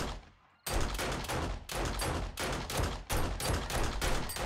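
Shotgun fire in the video game 7 Days to Die: about eight heavy, loud blasts in quick succession, each with a short decay, filling the stretch after a brief quiet opening.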